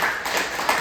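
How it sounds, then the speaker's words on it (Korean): A church congregation at a Sunday service claps in welcome, a brief burst of dense, even applause with no talking. "우리 환영의 박수 한번 하죠"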